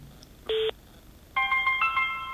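Two short electronic tones from an old German telephone: a brief steady beep, a pause, then a longer multi-pitched ringing tone, heard close and alone.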